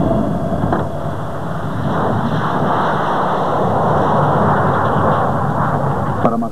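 A Dassault Ouragan jet aircraft takes off on its first flight, giving a loud, continuous, rough roar that holds steady throughout with a faint thump near the start and end.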